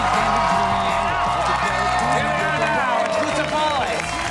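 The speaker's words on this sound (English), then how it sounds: "Round of applause." Studio audience at a sitcom taping erupts in applause and cheers, loud and sustained, with whoops and excited voices on top and a low musical bed underneath throughout.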